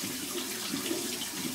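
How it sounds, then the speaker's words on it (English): Cold water running steadily from a tap onto an Osmo Allen sharpening block, a continuous close hiss and splash with no talking. "Gonna wet that under some cold water."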